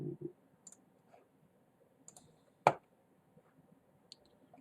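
Mouse clicks on a render button in editing software, a few quiet isolated clicks with one sharper, louder click standing out against near silence.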